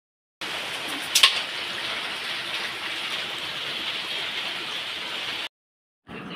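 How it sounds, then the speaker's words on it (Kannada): Water streams steadily onto a floor while it is being swept, a continuous broadband hiss close by, with a brief splash near the start, then it cuts off. "ನಾನಿಲ್ಲಿ ನೀರು ಬಿಟ್ಟು ನೆಲವನ್ನೆಲ್ಲ ಗುಡಿಸ್ತಾ ಇದ್ದೆ."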